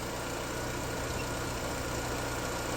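A car engine runs steadily at idle during a battery tester check, a close, even mechanical hum and rumble with no talking.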